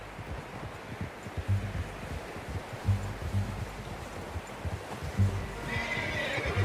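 In the video game Red Dead Redemption 2, a horse snorts and whinnies over a steady outdoor ambience, with soft rhythmic clip-clop of hooves throughout and a brighter rustle near the end.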